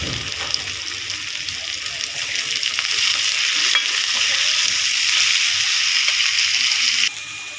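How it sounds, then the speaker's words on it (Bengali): Onions fry in a pan with a steady, bright sizzle that swells slightly midway and then drops abruptly near the end, heard close with no voices over it. "পেঁয়াজটাকে আমি লাল করে ভেজে নেব"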